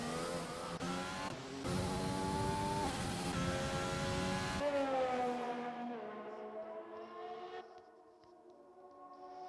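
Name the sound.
race cars racing at Circuit de Catalunya in sim racing video game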